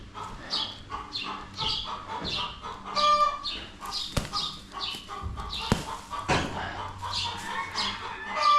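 Several chickens cluck and call repeatedly in a chicken coop, with a rooster-like crow and sharp knocks mixed in, a busy, close flock sound throughout.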